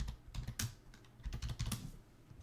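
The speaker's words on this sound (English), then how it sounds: "If I could type on a Saturday night, life would be easier" Close, crisp clicking from a computer keyboard in two brisk bursts with a short pause between them, no talking over the keystrokes.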